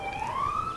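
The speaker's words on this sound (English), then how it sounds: "A vehicle with a siren noise just went by" A passing emergency vehicle's siren wails in a steady rising tone, fairly loud and continuous, set against a low rumble of background noise.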